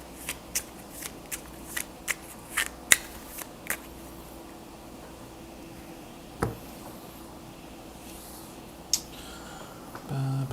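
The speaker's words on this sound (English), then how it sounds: "Shuffle, shuffle, shuffle." Playing cards being shuffled in short crisp riffle bursts, about eight quick flutters in the first few seconds, then a couple more spaced out, fairly close with a quiet room tone underneath.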